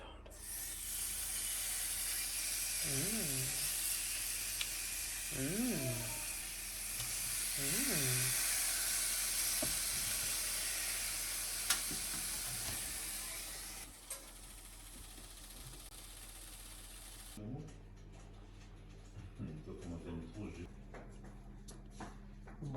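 Meat sizzling in a pan, a loud broad hiss that runs steadily for most of the stretch and then cuts off, with a voice speaking in bursts over it.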